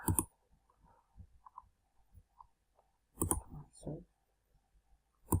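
Computer mouse clicks while installing GLPI software: a few sharp, separate clicks spaced seconds apart, close and fairly quiet, with faint soft handling noise in between and no talking.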